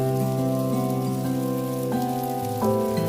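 Steady rain with drops falling continuously from the eaves of a Buddhist mountain temple in Buyeo, South Korea, a soft even patter close by, with occasional slightly louder drips; no voices.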